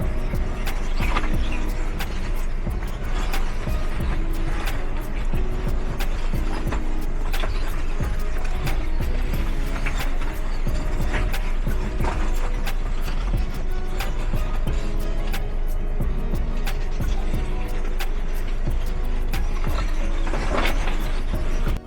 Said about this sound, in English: It's the sound the tires make while driving over all those loose rocks, like bones being crushed underneath you.